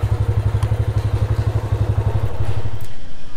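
A motorbike engine idles with a steady, loud low throb outside the Shahi Masjid in Chiniot, then cuts off about two seconds in, leaving only the quieter ambient noise of the street.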